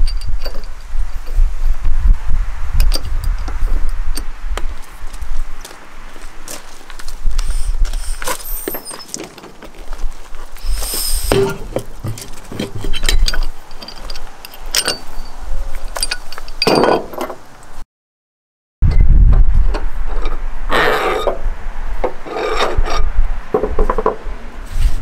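A Harbor Freight mini tire changer working a tractor tire bead loose, with repeated metallic clinks, creaks and knocks at close range. A brief silent gap comes partway through, and no one speaks.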